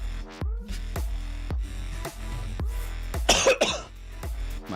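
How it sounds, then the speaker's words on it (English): A man coughs again and again, roughly a dozen sharp, close bursts in an uneven rhythm, with one harsher, throatier cough near the end, all at a desk during a live stock and futures day-trading session. "I hate this cough, man."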